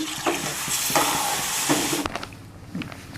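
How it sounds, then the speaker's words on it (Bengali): Water poured into a pan of semolina lightly fried in ghee sets off a loud sizzling hiss, then the sound cuts off sharply and gives way to quieter bubbling and stirring. "সুজিটা আমি হালকা ভেজে নিয়েছি, এবার জল দিয়ে দিচ্ছি"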